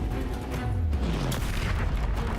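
An Incendio fire spell is cast in the video game Hogwarts Legacy, landing as a deep, booming whoosh amid a dense roar of combat effects and music that fills the whole short moment.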